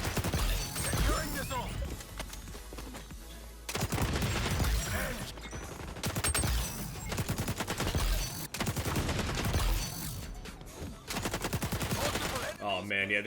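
AK rifle fire in Call of Duty comes in rapid bursts of loud, dense shots, broken by brief gaps and mixed with other game noise.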